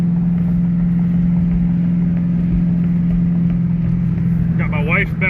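A Ford Edge drives along with a steady, close, low engine drone and road hum that holds constant throughout, with a voice briefly heard near the end.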